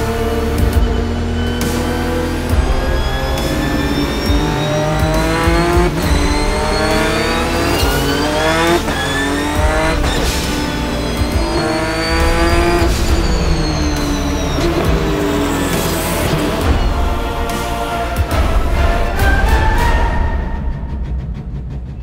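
A Scribante Porsche race car accelerates hard on a track, its loud engine revving through rising gear sweeps with repeated shifts for about twenty seconds, sustained and close, then fading at the end.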